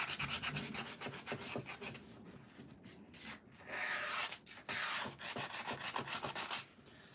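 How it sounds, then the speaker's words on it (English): An epoxy-coated surface is scuffed by hand with abrasive, making close, steady rubbing and rasping strokes that come in short bursts and longer sweeps, with no talking. "Make sure you scuff them all up. Get into all those nooks and crannies."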